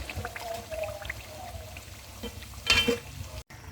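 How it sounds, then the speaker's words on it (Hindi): Chicken spring rolls deep-frying in hot oil in a small kadhai give a steady, close bubbling sizzle, with a brief louder splash of oil near the end. "ये देखिए हमारे कितने अच्छे समोसे फ्राई हो गए, कितना प्यारा कलर आया है।"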